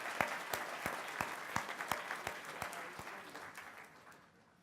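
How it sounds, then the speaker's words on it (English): Applause at a technical institute graduation ceremony for heavy vehicle technology graduates, sparse clapping with distinct individual claps in an irregular rhythm, fairly faint and fading away toward the end. "If we could get one more round of applause for all of our heavy vehicle technology program graduates"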